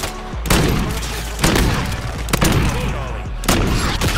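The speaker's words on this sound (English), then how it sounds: "I missed a couple of shots" Gunfire in Modern Warfare II, four loud, sharp shots spaced about a second apart, each with a booming tail, close and prominent.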